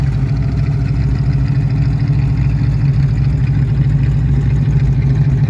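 A cold 1965 Ford Mustang engine idles roughly and runs rich from a carburetor problem, giving a steady, loud, close rumble with no talk over it.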